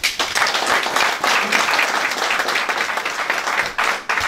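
An audience at an association's general assembly applauds, a loud, even burst of many hands clapping that stays dense for about four seconds with a brief dip near the end.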